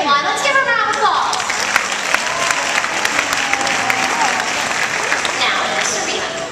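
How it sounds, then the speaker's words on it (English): Audience applause at a dolphin show in the Baltimore Aquarium: loud, sustained clapping from a large crowd with cheers, fading slightly toward the end, with children's voices and talk mixed in. "Let's give her a round of applause"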